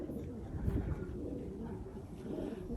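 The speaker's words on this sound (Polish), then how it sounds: "Także o jest kolejny gołąb." A pigeon coos softly in a garden, low murmuring calls that rise and fall close by, faint against a steady outdoor background.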